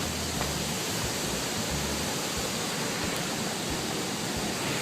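Waterfall seen from above a drop, a steady broadband roar of falling water filling the whole clip without pause, loud and continuous with no voices.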